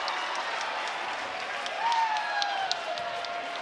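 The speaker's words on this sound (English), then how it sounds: "Second one drops and the crowd goes crazy." A basketball crowd bursts into applause and cheers after a made free throw, a broad steady roar of clapping and shouts filling the gym with a brief whistle-like tone rising over it.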